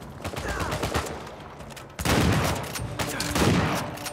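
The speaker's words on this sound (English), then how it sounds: "Shotgun's not nearly as powerful as the one in Uncharted 2" Gunfire in Uncharted 4 includes shotgun blasts. Loud, sharp reports stack into dense bursts with game effects around them, and a few scattered shots come first.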